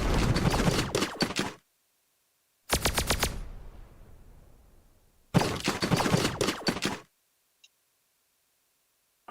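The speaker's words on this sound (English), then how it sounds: "they're going to shoot some missiles at me now" Missiles launched in a space-themed video game, three loud bursts of rapid crackling fire separated by silent gaps, the second trailing off into a fading hiss, followed by a faint blip.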